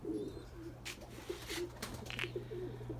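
Domestic pigeons coo in low, repeated murmurs close by, with a few brief chirps and some wing flutter over a steady background hum.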